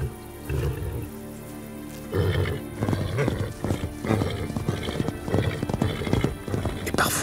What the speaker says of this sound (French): Son étalon, le blanc, est fier et possessif.